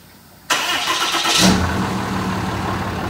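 A Dodge 2500 Cummins diesel truck engine cranks and fires after a ground-wire repair, a sudden loud start that swells briefly then settles into a steady close idle.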